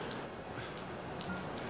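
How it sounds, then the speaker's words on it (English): Steady rain falling, a soft continuous patter of drops on surfaces, faint and alone. "It's cold, it's raining."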